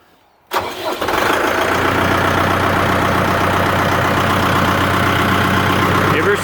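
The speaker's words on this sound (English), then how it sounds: "You can now start your engine." A Putzmeister concrete line pump engine cranks and catches, then settles into a steady, loud rumbling idle that continues unchanged.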